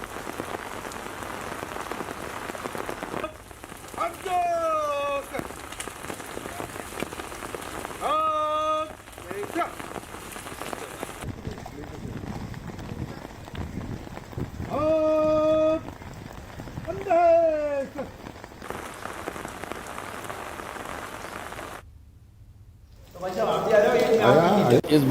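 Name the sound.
heavy rain falling on an outdoor gathering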